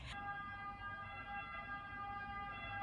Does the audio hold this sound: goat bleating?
no